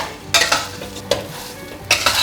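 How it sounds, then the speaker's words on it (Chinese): Rice coated in oil and seasoned with rose salt and white pepper is stir-fried in a pan, giving three sharp scraping stirs over a soft background sizzle, close and alone. "把调味料炒匀"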